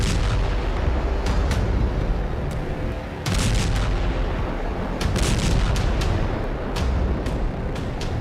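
Israeli tank fire in southern Lebanon at midnight, a dense run of loud, booming blasts and sharp cracks over a constant rumbling background, with repeated impacts spread across several seconds.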